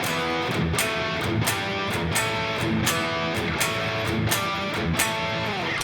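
Electric guitar plays a blues shuffle variation with a Dorian flavour, a steady loping rhythm of chord stabs and notes repeating evenly throughout, close and clear.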